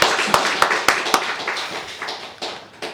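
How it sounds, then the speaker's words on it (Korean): A church congregation at a New Year's Eve worship service claps in thanks to God, a burst of crisp, close hand claps that grows sparser and thins out over a few seconds. "하나님께 감사의 박수 한번 하겠습니다"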